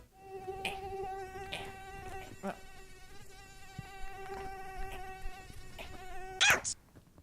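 A high, thin mosquito whine hums steadily and close, with brief sharper bursts near the end.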